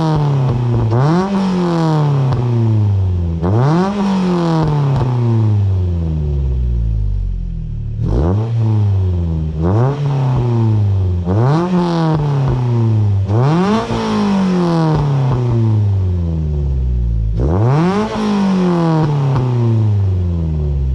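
A car with a non-resonated Milltek exhaust, 4-1 manifold and sports cat revs repeatedly in strong rising bursts, each climbing to a raspy, buzzing exhaust note before dropping back, loud and close with no talking.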